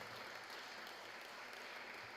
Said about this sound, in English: Kind of a round of applause for them.